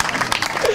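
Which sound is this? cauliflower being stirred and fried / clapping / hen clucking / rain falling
clapping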